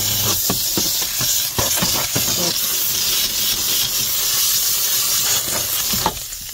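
A Tornador steam cleaner hisses loudly and steadily as it works on a plastic surface, with a burst of sputtering clicks at the start and the hiss running almost unbroken to the end.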